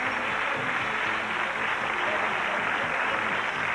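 Game show studio audience applauding steadily as a contestant wins $18,500, a dense, even wash of clapping that holds loud throughout.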